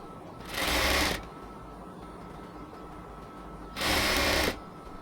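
Sewing machine stitching cotton palazzo fabric with elastic at the waist, running in two short bursts of about a second each, fairly loud against a quiet room.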